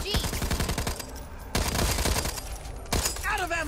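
Rapid SMG gunfire in Back 4 Blood crackles out in three short, loud bursts with brief gaps between them, close and dominant.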